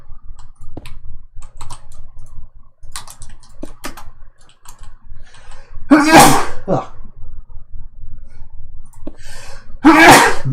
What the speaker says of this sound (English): My gosh, I am sneezing.